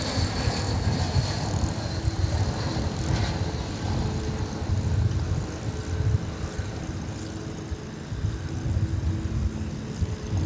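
American Airlines Airbus A321 jet arriving from Denver at DFW Airport, a loud continuous engine roar and rushing rumble holding steady throughout, with no one talking.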